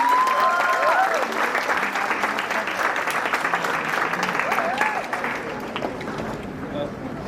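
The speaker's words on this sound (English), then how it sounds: "Could we please have a loud round of applause?" Sustained applause from a large audience, steady and dense throughout, with crowd murmur mixed in.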